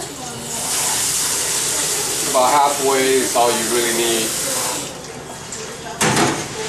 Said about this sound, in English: I first fill this with water, with cold water